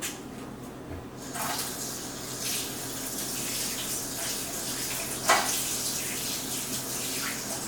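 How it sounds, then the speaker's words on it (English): A kitchen tap runs steadily as a spoon is rinsed during crepe making, a continuous close water gush with a brief splash or clink near the end. "I'm going to rinse this spoon while letting that cook a little bit more."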